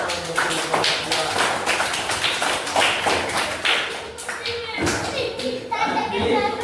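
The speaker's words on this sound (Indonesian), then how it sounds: "Kasih tepuk tangan untuk kelompok" Classroom of children clapping for a student group after a candle-melting science demonstration, uneven taps and thuds with children's voices chattering over them.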